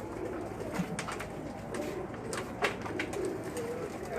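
Breeder pigeons cooing in a loft, soft repeated low coos from several birds near at hand, with scattered clicks and rustles and light background noise.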